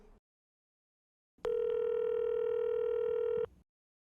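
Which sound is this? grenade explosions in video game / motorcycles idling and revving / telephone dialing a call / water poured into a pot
telephone dialing a call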